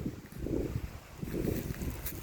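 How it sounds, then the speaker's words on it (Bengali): Strong wind roars steadily across the microphone on a mountain top in low, buffeting gusts that swell and ease. "কি একটা চমৎকার হাওয়া, চমৎকার বাতাস"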